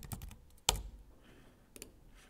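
Quick keystrokes on a computer keyboard as a word is entered in mind-mapping software, a few soft clicks and one sharper, louder tap, close and clear with no voice over them.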